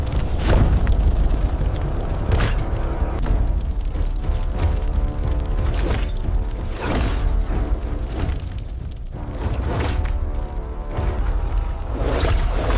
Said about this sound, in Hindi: एक भयंकर ऊर्जा विस्फोट हुआ और लक्ष्मण का शरीर डगमगाया